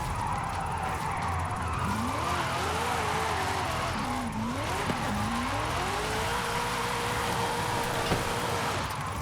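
A drift car in Forza howls steadily, its engine pitch rising and falling through throttle blips while the tyres slide, loud and continuous throughout.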